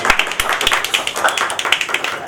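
Audience applause at a farewell party, welcoming a guest onto the stage: dense, steady clapping from a crowd that carries on through the whole stretch, fairly loud and close, with no talk over it.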